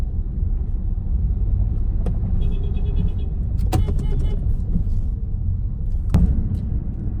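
Steady low rumble of road traffic heard from inside a vehicle, with a few brief mechanical whirs and clicks; no one speaks.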